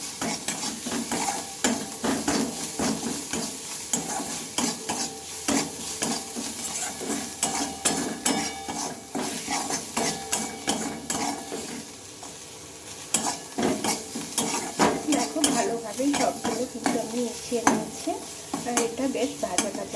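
A spoon works salt, turmeric and coriander powder through a potato and egg masala in a pan, giving a busy run of quick metallic scrapes and clinks over a soft sizzle, close and continuous.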